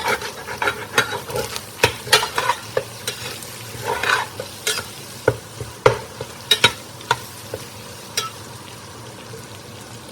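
Sausage browning in a Dutch oven over charcoal at a campfire sizzles steadily, broken by frequent scraping and stirring clatters, close and fairly loud with no one talking.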